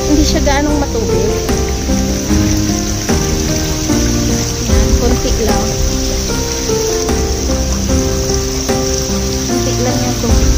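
A shallow mountain stream with little water trickles and babbles close by, a continuous bright splashing wash, while a person talks over it and music or other voices sit faintly beneath.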